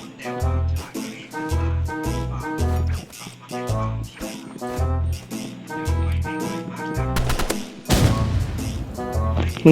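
Gunfire in the Roblox shooter Rivals plays under loud, pulsing game music with heavy bass, and a sharper burst of shots breaks through near the end.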